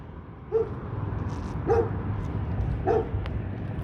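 A dog gives three short, evenly spaced barks or yips at moderate distance, each one brief and sharp over a steady low background rumble, with no talking.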